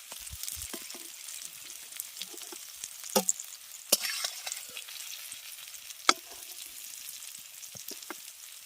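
Fried pieces are lifted out of hot sizzling oil, a gentle crackling hiss with sharp clinks and scrapes of a utensil against the pan scattered throughout, close by, with no one speaking.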